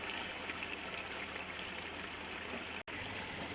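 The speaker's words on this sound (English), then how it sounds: "I'm adding 500 milliliters of water, that's half a pint." Water poured into a pot of Afghani chicken pulao, a continuous trickling stream of about half a pint that runs steadily before breaking off abruptly near the end.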